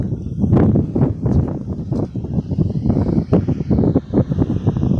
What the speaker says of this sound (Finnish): Täällä on kauhea tuuli, että varmaan kohisee tosi hyvin.